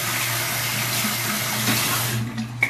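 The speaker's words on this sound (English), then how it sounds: "I do wash out my brush" A face scrub brush is rinsed under a running bathroom tap, with a steady close stream of water splashing, followed by a couple of brief clatters as the flow stops.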